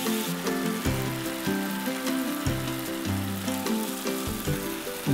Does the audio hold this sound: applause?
no